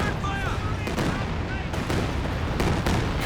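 Calliope rocket artillery fires in Company of Heroes 2, a rapid string of sharp launches and blasts layered over constant battlefield noise and gunfire, with a commentator's voice running underneath.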